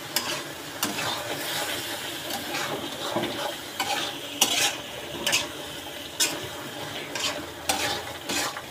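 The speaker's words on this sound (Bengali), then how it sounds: "এই দেখো, অলরেডি কষানো হয়ে গেছে। এই যে এটাকে বলে কষানো।" Curry with tomato being stirred and sautéed in a pan, a steady sizzle under repeated scraping strokes of a utensil against the metal, close and fairly loud throughout.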